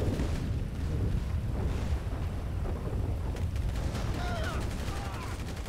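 Gunfire rattles in GTA 5 with dense, repeated booming shots and rumbling blasts throughout, fairly loud, with voices talking over it.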